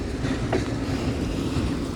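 Union Pacific mixed freight train passing Central Avenue in Metairie, a close, steady rumble of rolling cars with faint clickety-clack from the wheels.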